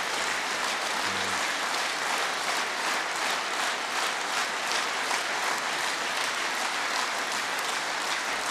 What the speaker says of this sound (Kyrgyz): Мына ушул кол чабууларды өзү айтып турат